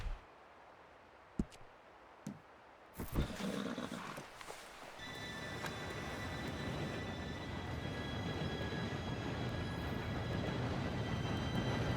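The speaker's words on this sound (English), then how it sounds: "Train should be here any minute now." In Red Dead Redemption 2, a distant train rumbles and grows louder as it approaches, with a faint whistle-like tone over a rising low roar after a few brief knocks and horse sounds.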